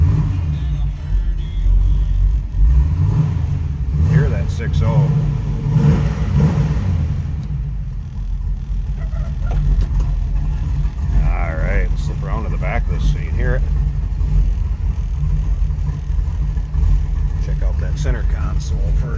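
1969 Chevrolet Camaro coupe with a 6.0 engine and a cam running at a steady low rumble, loud and close throughout, while people talk over it.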